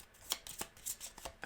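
Playing cards being shuffled for the Nemesis board game, a quick series of soft, papery riffling bursts at close range, quiet, with no talk.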